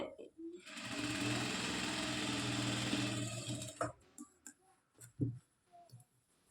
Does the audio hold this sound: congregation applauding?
no